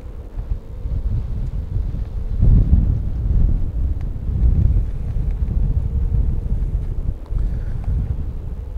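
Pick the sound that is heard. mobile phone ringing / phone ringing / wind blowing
wind blowing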